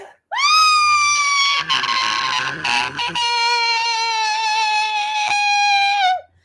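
A loud, shrill scream with a sustained, wavering pitch, held for about six seconds and very close, with a brief rough patch in the middle.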